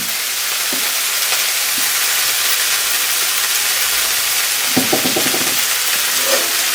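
Rui fish curry with potato and cauliflower sautés in a pan, a loud, even hiss and sizzle with a couple of brief utensil knocks near the end.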